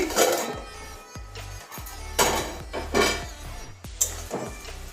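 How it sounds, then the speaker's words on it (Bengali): Metal pot lid lifted off a pot of jute greens (pat shak) cooking on the stove, giving a few sharp clanks and scrapes spread over several seconds, close and fairly loud with no talk. "তাহলে ঢাকনাটা খুলছি"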